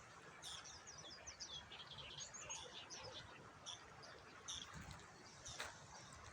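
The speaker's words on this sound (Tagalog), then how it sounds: "Pag ganitong oras pa lang, dami palang ibon dito." Many birds chirp and tweet by a riverside, a busy scatter of quick, fairly faint calls over a low outdoor rumble, with no talk.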